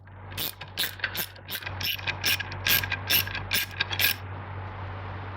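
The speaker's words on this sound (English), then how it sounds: "Just remove these two screws." A socket wrench on a swivel joint backs out the center shaft screws of a Mach 1 / GT350 TR-3160 MGW shifter: around ten rapid, close ratcheting click bursts in quick succession, then the clicking stops.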